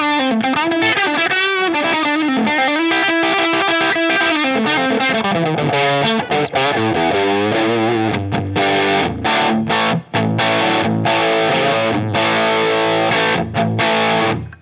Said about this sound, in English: like a fuzz pedal almost, you know?